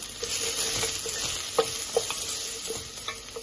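Sliced onion fries in hot oil in a pan for a Goan red spinach and pork dish, giving a steady close sizzle with scattered scraping stirs and soft clicks of a utensil.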